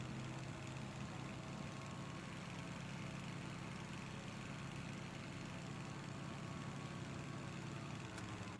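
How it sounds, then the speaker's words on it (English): A glider engine in PUBG drones steadily and continuously, a dense, even motor hum with no breaks or changes in loudness, fairly faint and heard alone. "A nice, quick and easy, fresh glider, full tank of gas."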